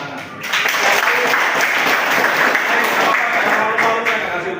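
Group applause from new members at a Pemuda Pancasila basic training session, a steady dense wash of clapping lasting several seconds with some voices mixed in.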